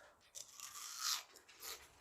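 Crunchy snack chewed close to the mic, crisp bites and crackles repeating quickly over about two seconds, fairly quiet and with no talking.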